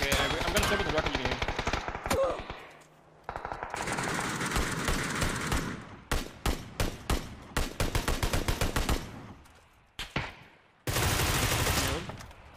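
Loud gunfire in the video game PUBG, with long automatic bursts and rapid single shots separated by brief pauses, mixed with a player talking.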